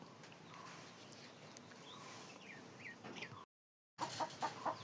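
Soft, scattered clucking from several chickens over a steady rustling background, with a brief dropout before louder clucks resume.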